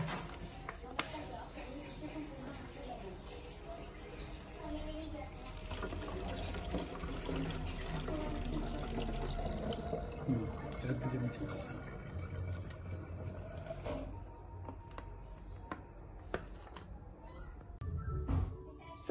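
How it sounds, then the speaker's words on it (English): Water running and pouring as a bottle is refilled during abrasive cleaning and sedimentation work, a sustained liquid flow with some clinking, heard partly under talking. "Ten seconds are up, so we'll refill the bottle."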